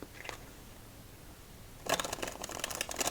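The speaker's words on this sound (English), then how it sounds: "The first time doing a riffle shuffle" A deck of playing cards is riffle shuffled up close, a dense crisp flutter of cards snapping together after a few faint taps and a pause, loud and near with no voices.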